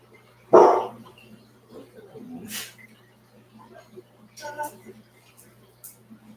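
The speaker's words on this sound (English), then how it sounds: "You don't need to bark." A dog barks loudly nearby at the start, followed by quieter yips and whimper-like sounds scattered through the rest, with people talking indoors in the background.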